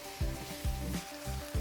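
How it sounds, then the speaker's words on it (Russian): Spices and finely chopped shallot frying in a pan over medium heat, a steady soft sizzle with a few louder bursts of crackle as the pieces hit the oil, close and alone. "Обжариваем буквально полминуты на среднем огне и сюда же добавляем мелко нарезанный лук"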